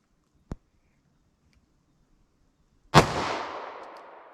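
A subcompact 9mm pistol fires a single 124-grain hollow point from about five yards, a sharp loud crack with a long trailing echo, preceded by a faint small click.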